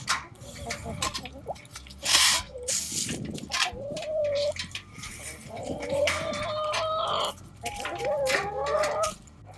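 Hungry hens in a backyard coop in the dark early morning give soft, warbling clucks and low murmuring calls, several birds overlapping at close range, with occasional rustling and knocks.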